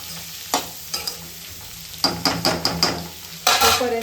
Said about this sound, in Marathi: आता हे हाय फ्लेमवरती आपल्याला हे शिजवून घ्यायचं आहे, म्हणजे ह्याच्यातलं जे मॉइश्चर निघून जाईल इतपत आपल्याला ते शिजवून घ्यायचं आहे